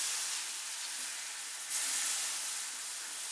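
Milk is poured a little at a time into a hot pan for macaroni cheese, giving a steady, close hiss and sizzle with a brief louder surge partway through.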